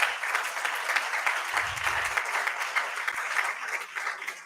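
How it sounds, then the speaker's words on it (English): An audience at a conference valedictory and certificate ceremony applauds for the convener, producing continuous dense clapping from many hands that lasts throughout, fairly loud and even. "please a big round of applause for Dr. Pratibha, convener of the conference"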